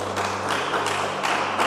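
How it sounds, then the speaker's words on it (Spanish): A church congregation applauding, a dense, steady roar of many hands clapping together, loud and continuous, with a low hum underneath. "Era una ofrenda de aplausos"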